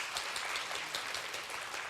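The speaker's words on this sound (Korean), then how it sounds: "큰 박수 한번 보내주시기 바랍니다" A church congregation at a Sunday service applauds, a continuous, even patter of many hands clapping, heard at a moderate distance.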